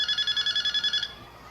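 A telephone rings in short repeated electronic trills, about ten quick bursts in a steady rhythm, fairly loud and close, then cuts off into quiet room tone.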